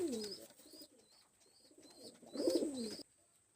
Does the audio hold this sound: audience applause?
no